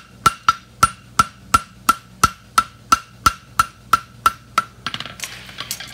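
A farrier hammers a steel horseshoe flat for a hind foot, fourteen sharp, evenly spaced ringing blows close by, followed by a brief scrape and clatter of metal.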